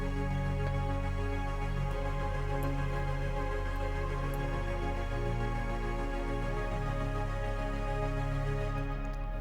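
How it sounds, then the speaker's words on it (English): A dense, steady ambient synth pad built from wavetable sawtooth and square waves with four-voice unison shimmer sustains evenly throughout, a thick, washy drone with no breaks or speech. "I used quite a nice ambient pad sound,"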